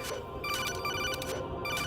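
A phone rings in the stealth video game Metal Gear Solid 2, a steady electronic ring with repeated bright tonal bursts over a dense game background for about two seconds, with no talking.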